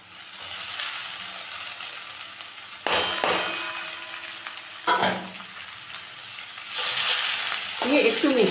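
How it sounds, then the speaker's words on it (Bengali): Boiled chowmein tossed into a pan of green chillies and vegetables already frying, a loud steady sizzle with metal clangs and scraping as the noodles are stirred, growing louder near the end. "সবজিগুলোকে একটু ভেজে নিলাম, এখন দিয়ে দিলাম সেদ্ধ চাউমিনটা"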